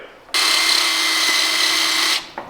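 A power drill whirs steadily at close range for about two seconds while a car front splitter is installed, then stops abruptly, followed by a brief short burst.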